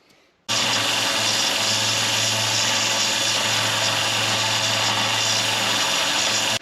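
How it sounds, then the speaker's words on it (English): A belt sander grinds material from the sole of a golf wedge, starting abruptly after a quiet moment and then running as a loud, steady, gritty whir with a low motor hum for several seconds. "maybe 5-10 minutes of hitting it with that belt sander"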